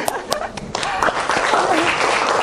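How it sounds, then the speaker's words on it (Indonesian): Students in a school classroom clap their hands together, starting with a few sharp separate claps and building into dense, continuous clapping, with voices audible in the room. "Oke, tepuk tangan."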